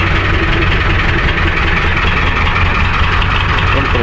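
A jeepney engine idles steadily and close by, a continuous low rumble with no distinct start-up burst, running alone without talk.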